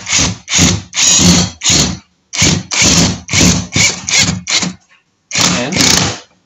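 Power drill driving screws into a wall stud while a clear PVC curtain rail is installed, a series of loud close motor bursts with short pauses between them.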